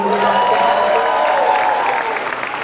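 An audience at a Brooklyn State of the Borough address applauds in a dense, sustained wash of clapping and crowd noise that stays loud throughout.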